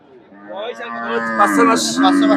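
Cattle low and moo at the Shahapur livestock market in Bangladesh, where local calves are sold, with several long calls rising and overlapping close by while market chatter runs faintly underneath.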